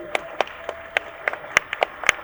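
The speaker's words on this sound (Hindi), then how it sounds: "एक बार जोरदार तालियां ताई के लिए।" An audience at a festival event claps in a sparse, scattered way. About a dozen distinct, crisp claps come in an irregular rhythm over a quiet background.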